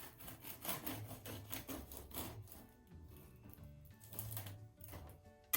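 A knife saws through a warm, freshly baked loaf with an onion-studded crust from a Römertopf clay baker, giving repeated close, rasping strokes with crunchy crackle, steady and moderately loud with no voices.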